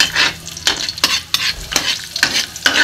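Garlic frying in a hot pan while being stirred: a steady loud sizzle broken by repeated scraping strokes of a utensil across the pan, close and rhythmic, with no voices.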